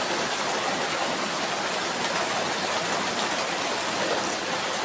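Heavy rain pours down in a constant, dense roar that is loud and unbroken from start to finish, with no voices.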